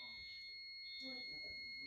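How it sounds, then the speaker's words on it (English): A fire alarm sounds at a distance in a Houston home during a winter storm, a faint steady high-pitched tone under quiet speech. "That's somebody's fire alarm going off."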